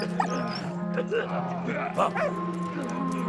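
A dog yips, whimpers and barks in short bursts in the video game Valiant Hearts over a steady low hum of game music.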